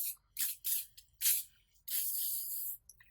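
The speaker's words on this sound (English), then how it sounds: "this is just going to be a spray lacquer" Bursts of spray lacquer hiss onto sugar poppy leaves in a sugarcraft cake decoration: several short close puffs, then one longer sustained spray before a faint tail-off.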